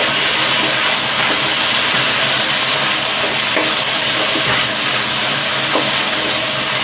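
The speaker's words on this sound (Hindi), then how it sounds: "अच्छी तरह से भून लेंगे गोश्त को।" Beef and green chillies fry in a handi for beef handi masala, giving a loud, steady hiss of sizzling fat that holds unbroken throughout with no one talking.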